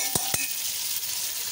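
Garlic and ginger fry in a hot pan for pasta, a dense, loud, continuous sizzle, with two quick scraping clicks of a utensil near the start and no voices.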